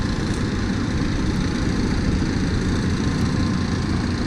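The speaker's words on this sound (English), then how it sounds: "the towboat gets this sand barge out and turned around and heading down river" Towboat engine on the Missouri River hauling a loaded sand barge out and turning it downriver, a steady low rumbling drone that holds at an even level throughout, with no voices.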